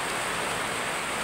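Steady rain falls in a rural province, a dense, even hiss of drops with no breaks throughout.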